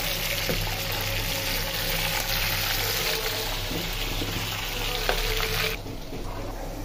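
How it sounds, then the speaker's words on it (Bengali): Meat frying in a pan for a korma, giving a steady loud sizzle with a few faint stirring knocks, easing slightly near the end. "মাংসটা ভাজা হয়ে গেছে,"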